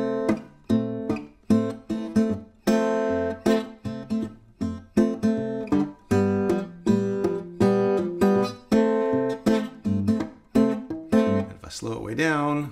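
A walking blues bassline in C on acoustic guitar, played with an alternating thumb, plucks out steady low notes under ringing upper strings. The rhythm is regular and the guitar sounds close and solo, without talking.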